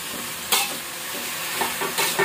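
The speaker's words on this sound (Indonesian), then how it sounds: "Aduk terus hendak kuning ya teman-teman" Vegetables stirred in a frying pan without added water, with a soft sizzle and a few sharp scraping strokes of the utensil, fairly close.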